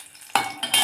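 Garlic frying in a pan is stirred, with two short bursts of scraping and sizzling after a quiet start.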